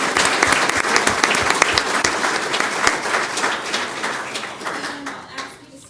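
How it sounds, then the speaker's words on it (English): An audience at a school governing board meeting applauds a student wrestler, dense clapping from many hands that stays loud and then tapers off toward the end. "Is he here with us this evening so we can give him a huge round of applause?"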